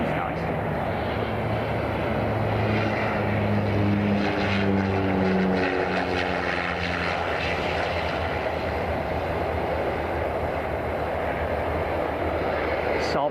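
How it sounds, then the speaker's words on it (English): Saab 340 twin turboprop airliner at Miami International Airport, its propeller engines droning loudly nearby with shifting tonal whine that rises and fades over a constant roar, with no talk. "Saab 340."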